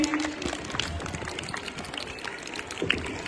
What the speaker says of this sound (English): Take round of applause, children.